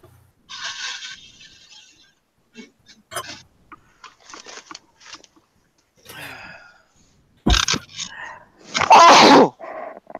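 A loud, sudden sneeze bursts out near the end after quiet shuffling and small movement noises, close by.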